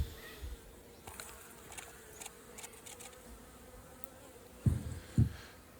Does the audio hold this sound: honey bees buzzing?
yes